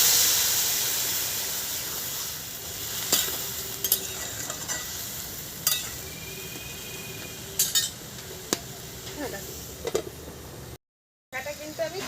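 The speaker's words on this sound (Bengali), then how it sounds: "এবার আমি অল্প একটু শিল দেওয়া জল দিয়ে দেবো।" Sautéed greens hiss and sizzle steadily in a hot pan after a little salted water goes in, while a spoon scrapes and clacks against the pan every so often, close and continuous.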